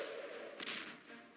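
An explosion in the Nintendo 64 game Superman 64 bursts out midway as a short, loud, broadband blast with a quick decay, set against a steady background hum of game sound.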